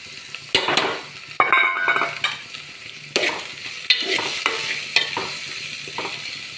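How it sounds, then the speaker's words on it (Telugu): Close sizzling of onion frying in a pan with salt and turmeric, broken by repeated scraping stirs of a spoon that come in uneven bursts over a steady crackle, without any voices. "ఇప్పుడు ఉల్లిపాయ వేగుతుంది కదా, ఇందులో కొంచెం ఉప్పు పసుపు వేసుకుందాం"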